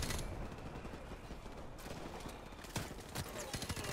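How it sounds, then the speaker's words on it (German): A weapon is reloaded in Call of Duty Modern Warfare Remastered, with metallic mechanical clicks and ratcheting close up. A dense wash of gunfire and battle noise runs throughout. "Kann ich hier nicht mal in Ruhe nachladen"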